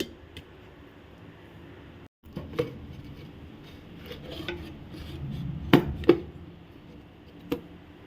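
Bitter gourd with salt and black cumin is ground on a grinding stone, a faint low rubbing and scraping punctuated by a few sharp knocks of stone on stone, close and without speech.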